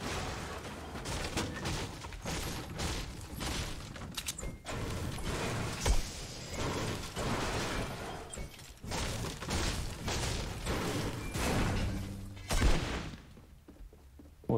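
A printer is smashed in Fortnite, heard as a rapid run of sharp cracking and shattering hits with gunfire-like bursts and thuds, dense over about fourteen seconds before thinning at the end.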